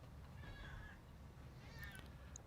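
A cat meowing indoors in a home office, two faint drawn-out meows spaced about a second apart, heard over a low steady room hum with no talk.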